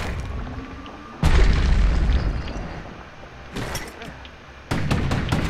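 Grenade blasts in the video game Bastion, several sudden loud booms with broadband bursts, each cutting in abruptly and decaying over a second or so, with game noise between them.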